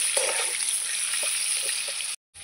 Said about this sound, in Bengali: আলুটাকে এবার লাল লাল করে ভেজে নেব।